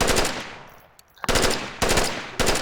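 Bursts of automatic gunfire from a support-class weapon in a military video game, MARSOC support loadout with a three-round burst mode, loud and close, several rapid volleys separated by brief pauses.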